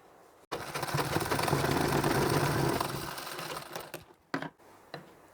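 A sewing machine runs in one steady whirring burst as it stitches blouse fabric for a baby's saree-style blouse, then gives a few short, separate stitching spurts.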